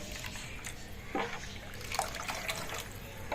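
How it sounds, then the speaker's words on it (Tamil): Water is poured into a pot of rasam made with tomato paste and tamarind water, giving uneven splashing and trickling bursts over a low background for a few seconds. "தேவையான அளவுக்கு தண்ணி ஊற்றிக்கோங்க."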